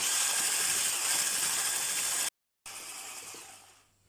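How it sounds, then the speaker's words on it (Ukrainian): Steady high whirring buzz of an electric mixer whipping sour cream with powdered sugar for about two seconds, a brief cut, then continuing before fading away. "Збиваємо міксером 2-3 хвилинки."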